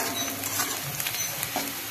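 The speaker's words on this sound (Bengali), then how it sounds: "পেঁয়াজটা ভেজে আসছে" Onions browning in a pan for chicken biryani give a soft, continuous sizzle and crackle, close and steady, with no voices over it.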